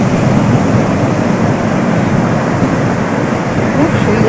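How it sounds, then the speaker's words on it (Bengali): Sea waves break at Puri beach at sunrise, a dense continuous roar of surf mixed with wind, loud and close with a crowd of visitors around. "সমুদ্রের ঢেউয়ের আওয়াজ"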